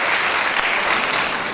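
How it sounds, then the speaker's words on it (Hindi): A seated audience at a ghazal workshop claps for the vice-chancellor, a brief, dense and fairly loud burst of applause that stays even throughout. "आप सब भी उनकी विद्वता के लिए एक बार तालियां बजाइए आदरणीय कुलपति जी के लिए"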